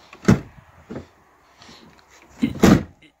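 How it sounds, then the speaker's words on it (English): Rusty-hinged door on a log cabin being pushed shut, giving a thud, a lighter knock, then a louder pair of bangs near the end, close by and without talk. "this is what happens when we try closing the door"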